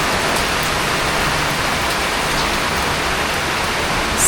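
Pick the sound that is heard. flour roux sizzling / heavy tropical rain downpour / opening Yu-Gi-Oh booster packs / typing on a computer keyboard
heavy tropical rain downpour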